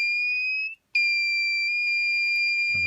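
A Bodyguard 323 Color Vision infusion pump sounds its alarm, a loud steady electronic tone that cuts out briefly and then resumes, with a soft rustle at the end.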